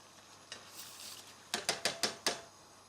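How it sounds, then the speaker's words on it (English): Soft stirring scrapes, then a quick run of five crisp splashes and clinks as rinsed rice drops into a pan of boiling water, close and fairly quiet. "And now I have a pan of boiling water, and all you need to do is pop your rice straight in"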